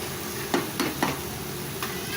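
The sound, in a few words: mutton sautéing and being stirred in a pan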